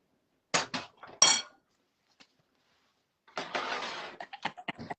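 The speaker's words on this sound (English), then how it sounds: "now throw it in the oven" A baking tray of vegetables clanks as it goes into the oven, a few sharp metallic knocks, then a longer scraping rattle and quick clicks, close and clear.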